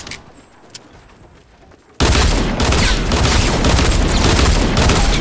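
Dual pistols fire in Fortnite gameplay: after a quiet stretch a sudden dense, loud barrage of rapid gunshots starts and continues without break to the end.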